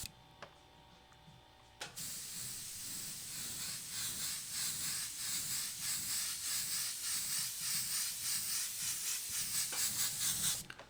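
Airbrush spraying paint while freehanding a skull: a steady, close hiss that starts abruptly after a brief quiet lead-in and runs continuously with slight pulsing until the end.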